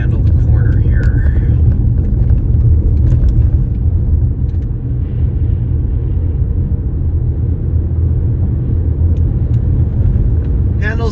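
A 2026 Chevrolet Equinox LT crossover SUV is driven through a corner, giving a steady, loud low rumble of engine and road noise from inside the cabin, with a voice heard at times.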